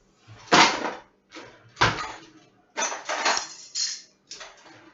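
Bowls and dishes clatter as they are handled in a kitchen, with about six distinct clinks and knocks spaced unevenly, close and fairly sharp.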